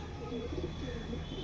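Pigeons kept for racing tournaments cooing nearby, soft low repeated coos over a steady background hum.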